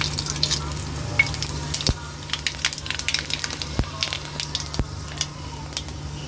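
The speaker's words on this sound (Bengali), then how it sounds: "এবার আমি দিচ্ছি 5 ফোড়ন।" Panch phoron whole spices crackle and sizzle in hot oil, a steady close frying hiss dotted with small pops and a few sharp clicks, with no voices.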